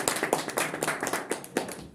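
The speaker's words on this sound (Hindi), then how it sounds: "बस एक बार तालियां जोर से बजा देना" Scattered applause from a small audience at a Hindi open mic poetry event, individual claps audible in an uneven, fairly sparse rhythm over about two seconds, moderately close and with no talking.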